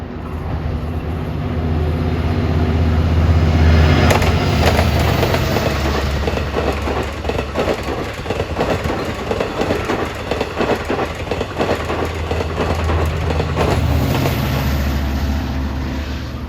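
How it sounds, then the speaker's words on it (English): An LIRR train, number 20 from Penn Station to Montauk, passes through Woodside at evening rush: a sustained rumble with rhythmic clickety-clack of wheels over rail joints, steady and loud throughout. "here comes another train that's making his first run tonight. Train 20, Penn Station to Montauk."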